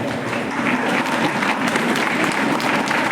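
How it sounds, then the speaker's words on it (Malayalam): A large audience at a community felicitation ceremony in an auditorium rises to give a standing ovation, a dense, steady wash of many hands clapping that stays loud and continuous throughout. "എല്ലാവർക്കും എഴുന്നേറ്റ് നിന്ന് കൈയടിച്ച് ആദരവ്"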